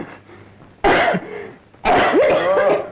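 Two harsh, throaty coughing bursts from a man, each lasting under a second and separated by a quiet pause, close and loud against a faint background.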